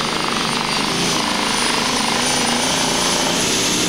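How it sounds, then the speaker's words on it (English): A loud, continuous pulling-tractor engine roar at a 1995 tractor pulling event in Herning, Denmark, with a rapid, steady rattling knock, heard up close with no voices. "it sounds like there's a woodpecker trying to get out of his engine"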